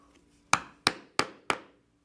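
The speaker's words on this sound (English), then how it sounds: "stitching chisel and I will punch on through these holes and through the thickness of the body as well" Four evenly spaced, sharp strikes from a mallet driving a stitching chisel through thick leather, each a crisp close knock with a short decay, in an otherwise quiet room.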